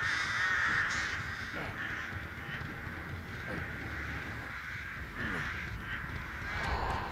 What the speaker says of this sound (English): I did not expect those birds to hit me.